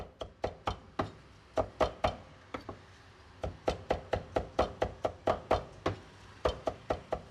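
Two cleavers chop garlic for stir-fry on a board in a rustic Hakka kitchen, producing rapid, uneven, sharp woody knocks in quick bursts with brief pauses, close and fairly loud.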